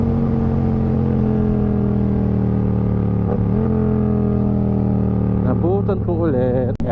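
Yamaha MT-07 motorcycle engine running steadily up close, a sustained droning idle with a couple of brief revs near the end, under continuous talking.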